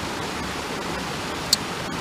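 Steady broadband rush of creek water flowing continuously at an even level during gold prospecting, alone with no talk, with one brief sharp click partway through.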